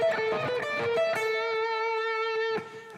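A clean electric guitar picks quick alternating notes on two adjacent strings using inside picking, then lets a chord ring out briefly; close and moderately quiet.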